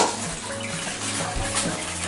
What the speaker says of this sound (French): En fait, je me lave les mains.